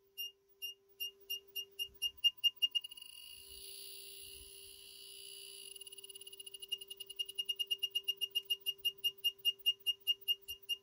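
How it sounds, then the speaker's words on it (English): The beeper of a 4-digit static LCD speed module gives a steady series of short, sharp electronic beeps, evenly spaced and repeating quickly. The beeps speed up partway through, with a faint constant hum underneath. "I have a switch here that is connected directly to the beeper and is shutting it off if it's too annoying"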